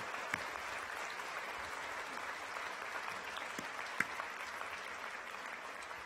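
Audience at a graduation ceremony applauding the graduates' supporters, a steady wash of many hands clapping heard from a distance in a large hall, with a couple of sharper nearby claps.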